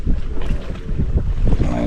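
Strong wind buffeting the microphone on Glendale Lake during a bass fishing tournament, a steady roaring rumble with gusty swells and no speech.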